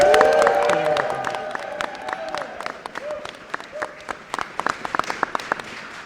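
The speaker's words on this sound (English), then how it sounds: "Give them a huge round of applause." A press-conference audience cheers and applauds, with voices shouting and whooping over clapping at first, then the cheers fade and scattered claps thin out to a few sharp, separate ones.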